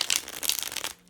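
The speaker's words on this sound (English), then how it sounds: "Shuffles like a dream." A tarot deck, the Centennial Smith-Waite, is riffled in a quick shuffle, giving a dense, close flurry of crisp papery flutters over about a second before it stops.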